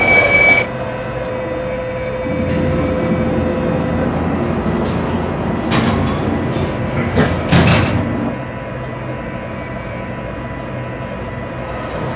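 Train doors sliding in the Trainz game on a Brightline American bullet train, a mechanical whoosh with thuds and a hiss over steady engine hum, then settling to a quieter idle.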